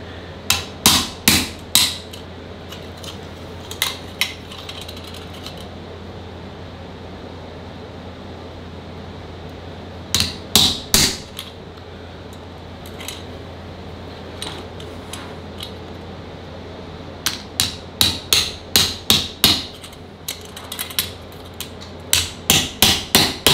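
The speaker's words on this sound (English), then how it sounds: "you'll need a ball peen hammer or some kind of peening hammer once you get down here fairly low" A ball peen hammer peens a metal rod around a drill bit while shaping a flintlock trade gun wiping stick, ringing in bursts of rapid sharp metallic strikes separated by quiet pauses.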